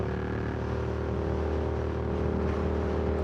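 Suzuki GSX-8S motorcycle fitted with a Delkevic 8-inch carbon fiber full exhaust system, riding down the highway: a steady, loud engine drone with a deep low rumble, held at constant revs without talk.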